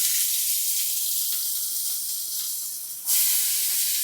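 Onion frying in a hot pan, a loud steady hiss and sizzle that jumps sharper and brighter near the end as more hits the oil.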